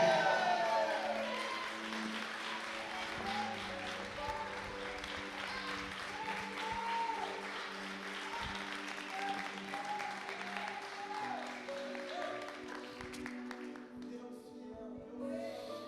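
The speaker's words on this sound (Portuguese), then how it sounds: "Você pode dar um glória a Deus bem forte, um aplauso bem forte a Ele?" Evangelical church congregation applauding and cheering in praise, a steady sustained wash of clapping with shouts and some voices over it, fairly loud throughout and thinning toward the end.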